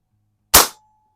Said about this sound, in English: I'm going to shoot just a little bit to the right